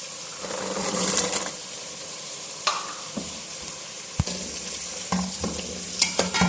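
A pot of spiced chicken pulao with peas and red chilli powder, salt and garam masala is stirred, giving a continuous sizzle with a few sharp scrapes and knocks of the spoon against the pot; no voices.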